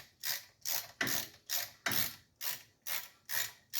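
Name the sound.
ratchet removing brake caliper bolts on Chevy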